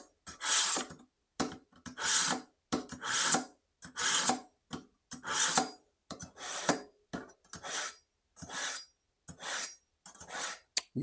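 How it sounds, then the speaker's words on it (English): A big kitchen knife dragged repeatedly across a sharpener, about a dozen short rasping strokes in a steady back-and-forth rhythm, close and clear with nothing else in the background. "I'm going to just sharpen this just a little bit here"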